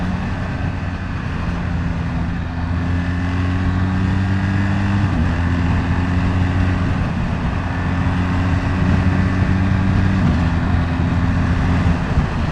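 A BMW GS adventure motorcycle accelerates hard on a motorway, its engine droning loud and steady with a couple of gear-change dips amid constant wind rush, no talking.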